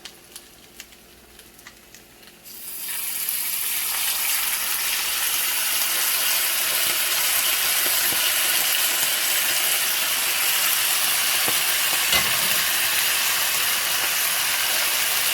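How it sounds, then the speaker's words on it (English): A loud, steady sizzle and hiss bursts in after a quiet start as gravy is poured onto cut beef on a very hot sizzling plate, crackling without letup. "Now I'm going to pour the gravy into this cut meat right now."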